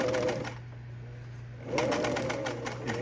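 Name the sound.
sewing machine back-stitching a tent zipper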